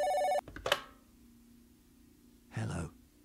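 Telephone ringing with a short electronic burst, followed by a sigh and a breath, then quiet room hum and a brief voice near the end.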